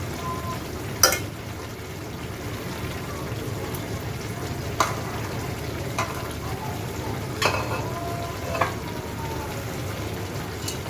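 Fried tangra fish stirred in a pan with red amaranth leaves, making a low continuous sizzle broken by a few sharp scrapes and clacks of a spatula spaced a second or two apart, close and with no talking.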